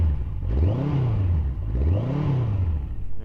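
A Yamaha FJ1200 sports tourer motorcycle revs close by, its engine rising and falling twice in smooth, loud swells over a steady idle.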